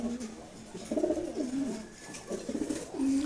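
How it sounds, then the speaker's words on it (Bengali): Several male Giribaz pigeons coo in overlapping low, throaty phrases, close by, rising and falling in bursts with brief gaps between calls. "এগুলো সবই নর কবুতর"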